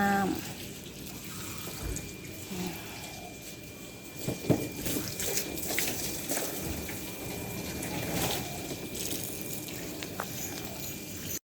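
Water runs into a bucket being filled for car-wash soap outdoors, a continuous splashing gush with a few clunks and faint birdsong in the background.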